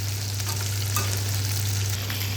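Chicken boti pieces coated in egg, besan and cornflour deep fry in hot oil, making a loud, continuous, dense crackling sizzle under a low steady hum, with no voices.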